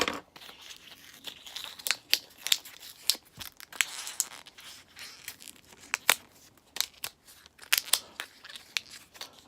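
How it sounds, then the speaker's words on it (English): New battery packaging is wrestled open up close with repeated snips, tears and crinkling plastic, sharp irregular bursts of cutting and crumpling over about nine seconds, fairly faint and without speech. "Open the new battery up. Fight with the packaging."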